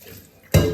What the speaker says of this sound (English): the cut pieces are thoroughly washed and placed in a new saucepan to remove the water